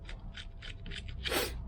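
Ratcheting wrench clicking in short repeated bursts while backing out 1/4 inch UNF bolts from the mounting plate and bearing retainer of a Range Rover Classic Hobourn Eaton power steering pump, close and fairly quiet, ending in a louder scrape.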